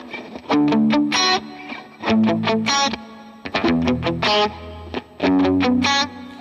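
An electric guitar plays arpeggiated lead lines through effects on the chord progression of a song in A. Four bright phrases of rapid picked notes are separated by short pauses.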